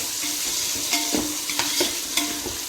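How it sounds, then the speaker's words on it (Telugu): Onions and tomatoes frying in oil for chicken biryani make a close, busy sizzle with repeated scraping stirs of a spoon against the pan. "ఆనియన్ టమాటా వేసి మంచి ఫ్రై చేసుకోవాలి"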